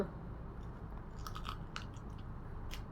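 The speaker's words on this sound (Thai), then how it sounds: "มากินข้าวโพดกันทุกคน" Steamed sweet corn bitten and chewed, several crisp crunchy bites over a few seconds, close and fairly quiet, with no talk.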